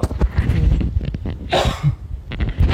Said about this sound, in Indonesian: mohon maaf kalau sering batuk ya